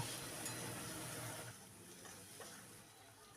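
Two large chopped onions are stirred in a hot pan for a Bengali doi aloo potato curry. A faint, steady sizzle runs throughout, with a few soft scrapes of the spatula.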